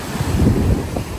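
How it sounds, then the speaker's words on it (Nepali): Ocean waves surge and roll in a steady low rumble, mixed with gusting wind noise and no voices. "कत्रो छाल आएको त नि"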